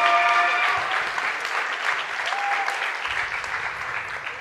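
Warm, sustained applause from an audience welcoming a contestant to the stage at a French science-communication thesis competition, with a brief voice at the start under the dense, even clapping.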